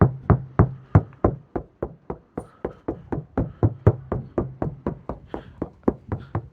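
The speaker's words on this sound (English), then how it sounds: "it's just a simple typical knock test" A knock test on a van roof panel before sound treatment: a steady series of about twenty-five sharp, hollow knuckle knocks in a quick even rhythm, close and clear with no talk.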